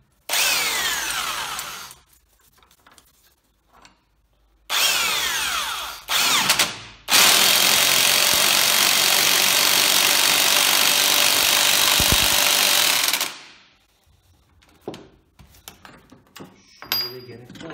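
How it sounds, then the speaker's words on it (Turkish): A pneumatic torque tool tightens spring compressors on a shock absorber while replacing a broken coil spring. It runs in loud bursts: two short ones, then a sustained run of about six seconds, with quieter workshop clatter between them. "Şimdi tork makinasıyla sıkacağız."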